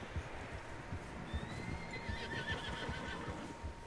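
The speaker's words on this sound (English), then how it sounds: "Horses, quite a few of them." Horses whinnying with clip-clopping hooves in Red Dead Redemption 2, a neigh rising over scattered hoof falls and a low outdoor ambience, fairly faint and without speech.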